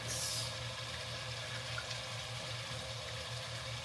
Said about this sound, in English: I just let the water run so it gets hot and throw it in.